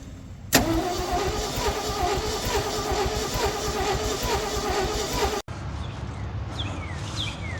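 Old Ford F600 dump truck cranking and catching, its engine bursting into a loud rough run with a steady rhythmic throb, then cutting out abruptly into a quieter low rumble with faint squeaks nearby.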